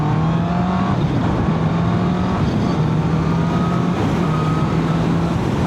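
Honda CB650R E-Clutch motorcycle pulling hard through a clutch gear change, a loud steady engine drone with rising pitch and a brief dip at each shift, heard up close with no voices.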